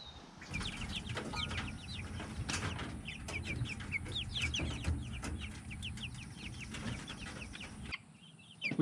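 A flock of rustic-looking chickens clucks and chatters close by, with brief bursts of wing flapping, carrying on steadily without talk until a sudden drop near the end.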